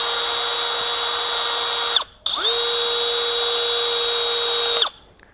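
A battery-powered brushless riveter whirs at a steady high pitch running its cycle, stops briefly, then spins up again and runs for several seconds before cutting off.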